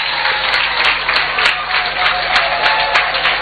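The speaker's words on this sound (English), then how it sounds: "by rising to your feet, by clapping and ululating" Crowd of Ghanaians in Zambia rising to applaud at a gathering with President John Mahama, a loud, dense, continuous roar of clapping filling the whole stretch, with occasional sharper claps standing out.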